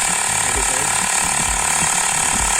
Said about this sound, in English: So now I'm doing the motor, right now, and it is actually pumping the air